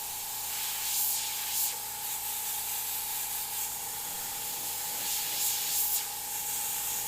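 An airbrush sprays paint for a fire and skull artwork, a steady close hiss of compressed air that continues for about seven seconds with slight swells in intensity.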